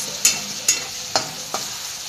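Dhaba-style whole masoor dal masala being stirred as it fries in a pan: four sharp scraping strokes spaced about half a second apart over a steady soft sizzle, with no talking.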